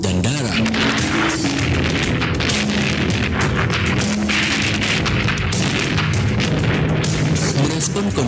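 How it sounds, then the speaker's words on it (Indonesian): Artillery bombardment and cannon fire on a city from sea and land, a continuous roar of loud booms and thuds overlapping densely without pause, with a low tone running beneath. "Berbagai bagian kota Surabaya dibombardir dan ditembak dengan meriam dari laut dan darat."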